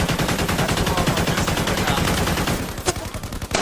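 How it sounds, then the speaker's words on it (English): Heavy gunfire in a sustained battle, a dense rapid volley of shots like machine-gun bursts that fills the clip, loud and close, thinning slightly toward the end with a few isolated cracks. "The firing continued for a few minutes."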